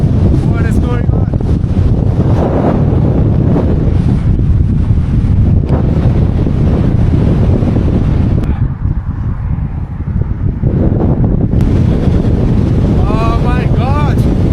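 Strong gusty wind roars and buffets the microphone while cycling uphill on a 5% grade along a Xinjiang highway, loud and continuous with a brief lull partway through; a voice speaks now and then.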